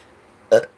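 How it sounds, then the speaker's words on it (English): A single short, loud burp rises from quiet near the close, rough and throaty, during a live energy-clearing stream. "If you start burping, like that's a big sign"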